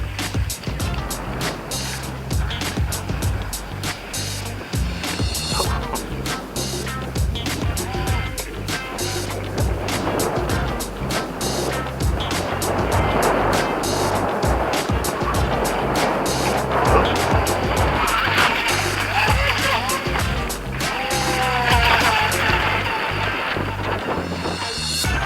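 A FEI LUN FT012 high-speed brushless RC racing boat runs on water with a steady high-pitched electric whine and spray hiss, fairly loud and close throughout, with faint voices in the background.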